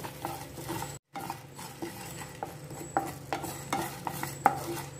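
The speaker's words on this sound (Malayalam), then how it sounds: "ഒരു നാല് ഏലക്കായി, ഒരു 3 ഗ്രാമ്പു ഇത്രയും ഇട്ടിട്ട് ഇത് നമുക്ക് ഫ്രൈയാക്കിയിരുന്നു." Cardamom pods, cloves and a bit of cinnamon fry in a pan with a soft sizzle, while a spoon stirs and clinks against the metal in irregular knocks, close and fairly quiet.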